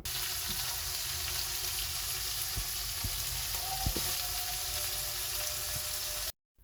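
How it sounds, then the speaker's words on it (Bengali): Shrimp sautéing with spices in a pan, a steady close sizzle with occasional light clicks of stirring, no voices, ending abruptly. "এখন মশলার সাথে চিংড়িগুলোকে কিছুটা সময়ের জন্য কষিয়ে নিচ্ছি"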